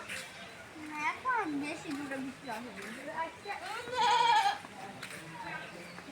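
Several goats bleat in a wavering series, close by, with one higher, louder cry near the end over quiet background noise.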